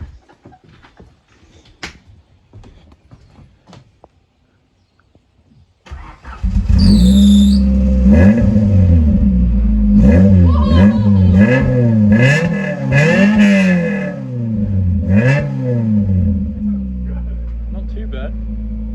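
A Honda Civic with a swapped B16 engine and homemade exhaust cranks and catches, then revs up and down several times, loud and close, settling into a steady rough idle.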